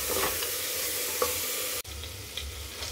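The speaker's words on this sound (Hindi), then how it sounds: "हरी मिर्च इसे डाल के भी हम थोड़ा भून लेंगे।" Vegetables with tomato and green chili sizzle steadily as they sauté in a pressure cooker for veg biryani, with a continuous hiss, a few soft stirring clinks, and a brief cut partway through.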